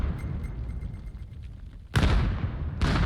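Grenade blasts in a VR shooter game: quiet low rumble, then a sudden loud burst that stays full and harsh, and a second sharp blast closing out the moment.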